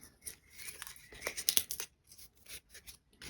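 Careful opening of a Deep Deep Light watercolour paint tube, soft crinkling and tearing of packaging with small clicks and scrapes, quiet and close, in brief irregular bursts without speech.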